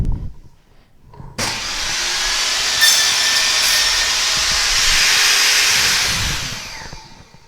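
A power saw fitted with a single blade cuts a box joint slot in a wood workpiece against a jig pin, spinning up abruptly into a loud, steady whining cut lasting about five seconds before winding down.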